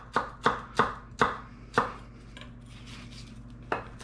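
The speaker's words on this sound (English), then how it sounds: "I mince shallots basically the same way I mince onions, so I go vertically first" A knife chops shallot on a cutting board in five quick, crisp, evenly spaced strikes, then pauses before one last cut, close up and alone.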